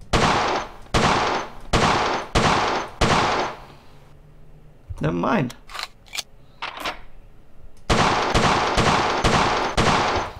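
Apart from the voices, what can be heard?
Colt 1911 pistol shots at shooting range, World of Guns video game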